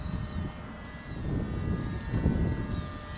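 A Hobbyzone AeroScout S2 1.1m propeller RC plane runs at full throttle outdoors in gusty wind, its steady motor drone holding through the whole stretch, swelling slightly louder toward the end as it passes.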